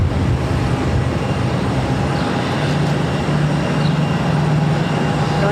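Heavy jet aircraft arriving at Boston Logan airport gives off a loud, sustained broadband roar with a steady low rumble, continuous throughout with no voices.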